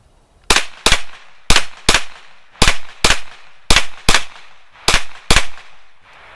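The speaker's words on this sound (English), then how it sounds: "I'm gonna rattle off the last 9 shots real quick" A Beretta CX4 Storm carbine fires ten sharp shots in quick pairs and triplets, loud and close, each crack with a short decaying echo.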